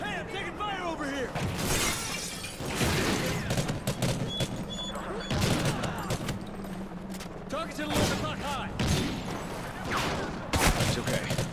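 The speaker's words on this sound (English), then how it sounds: "Hey, I'm taking fire over here!" Dense, sustained gunfire in Call of Duty Ghosts, rapid automatic bursts and sharp cracks filling the whole stretch, with shouted voices and glass-like shattering mixed in among the shots.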